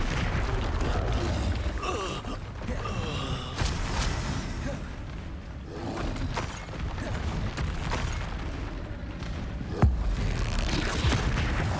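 Dense, cluttered spell-combat noise from Hogwarts Legacy, with booming magical blasts, creaks and mechanical clanks layered over a constant rumble, peaking in one sharp explosive hit near the end.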